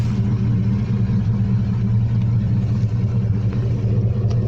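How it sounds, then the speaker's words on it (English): A 2009 Chevrolet Silverado LT Z71 pickup runs steadily with a deep, strong exhaust rumble, loud and close, idling evenly with no talking. "It's got a strong exhaust. Like it sounds really cool."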